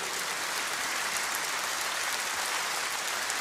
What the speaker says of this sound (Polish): Duże, duże brawa.